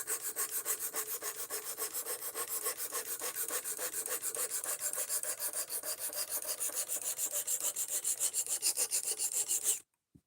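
A knife edge being sharpened, rapid steady rhythmic rasping strokes, close and fairly loud, continuing evenly for about ten seconds before stopping abruptly, with no talk.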